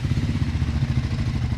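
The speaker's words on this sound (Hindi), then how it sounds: "ये इसका बिल्कुल नॉर्मल आइडल का साउंड है।" A Triumph Scrambler 400X motorcycle idles close by, its exhaust putting out a steady low, even pulsing thrum that runs unbroken throughout.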